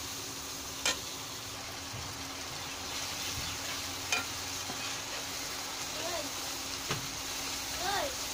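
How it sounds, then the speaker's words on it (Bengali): Spices and soaked, salted ilish fish sautéed in oil with a little turmeric, a steady low sizzle broken by a few faint scrapes and ticks of stirring. "এভাবে কিছুক্ষণ কষিয়ে নিতে হবে।"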